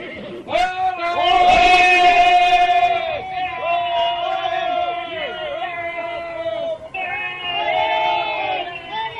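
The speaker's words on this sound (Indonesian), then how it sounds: "Kenapa orang-orang kita bersorak-sorak?" A crowd of people cheering and shouting together in a desert setting, loud massed voices rising and falling with long drawn-out calls, sustained throughout.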